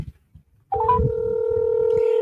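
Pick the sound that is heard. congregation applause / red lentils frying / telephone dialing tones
telephone dialing tones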